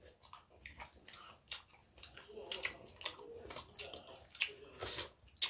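Crispy food crunched and chewed close to the mic during a mukbang, a run of sharp, irregular bites and crackles with faint voices now and then.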